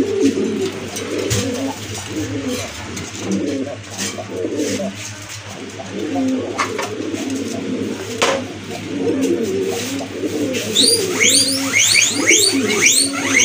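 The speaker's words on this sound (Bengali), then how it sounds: "আবারও হাজির হলাম রাজগোল্লা কবুতর নিয়ে, বড় পায়রা কবুতর নিয়ে" Large Rajgolla pigeons coo in repeated deep, throaty rolls close by, with a bright chirping bird joining near the end.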